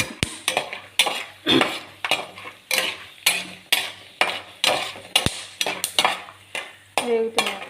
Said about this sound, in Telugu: వేగుతున్నాయి పల్లీలు.